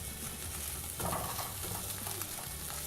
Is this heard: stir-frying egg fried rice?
yes